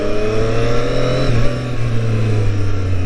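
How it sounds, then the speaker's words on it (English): A 2019 Triumph Street Triple RS engine drones steadily up close in road mode, its intake note rising slightly and dipping as the throttle eases off and back on, kept below 5,000 rpm. "I like the intake noise already."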